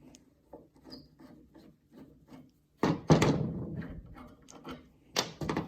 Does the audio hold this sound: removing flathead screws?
yes